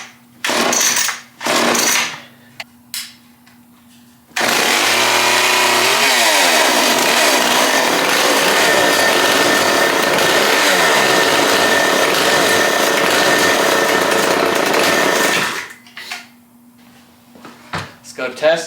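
Small two-stroke chainsaw bought cheap and being restored, running after an idle adjustment: a few short bursts, then a long loud continuous run with rising revs before it stops, with talk in between.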